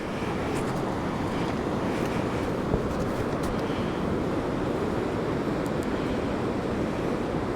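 Ocean surf at Kalaloch Beach rolls in as a steady, dense wash of breaking waves with wind buffeting the microphone, continuous and fairly loud throughout.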